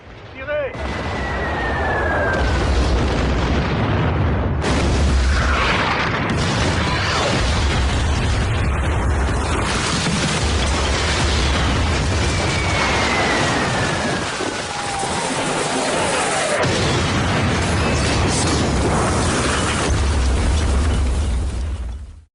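World War I artillery guns firing shells with heavy explosions, continuous loud booming and rumbling blasts throughout, with voices mixed in.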